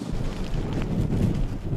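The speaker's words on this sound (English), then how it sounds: "As the wind rocks boats, docks, and flags along the South Shore, it's coming through the chimney, so you can hear it" Nor'easter storm wind on the South Shore of Marshfield gusts and roars through a chimney, a loud, low, steady buffeting with no speech.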